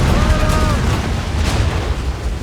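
Cannons firing from a sailing warship in Assassin's Creed Rogue, a loud booming blast with a rough low rumble and crackle, dense battle noise and faint shouted calls mixed in.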